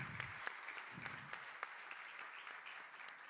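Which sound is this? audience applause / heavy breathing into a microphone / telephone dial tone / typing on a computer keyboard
audience applause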